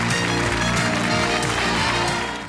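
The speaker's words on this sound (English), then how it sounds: "Let's give a nice round of applause." A television studio audience applauds at the close of a game show, a continuous wash of clapping mixed with a loud sustained musical theme that fades out at the very end.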